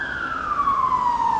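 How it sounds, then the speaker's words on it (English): A steady wailing ambulance siren drifts slowly downward in pitch as it passes at a moderate distance, over a constant rumble of street traffic in Tbilisi, Georgia. "There goes an ambulance on the other side."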